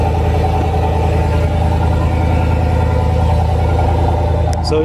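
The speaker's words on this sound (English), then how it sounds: "it's not that loud of an exhaust or anything like that" A lifted 2020 Chevy Silverado 1500 LT Z71 pickup idles nearby, its engine and exhaust giving a steady low rumble that holds even and moderately loud throughout, with a faint higher click near the end.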